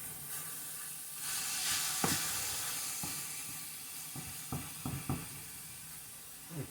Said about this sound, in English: how pretty that's sauteing up there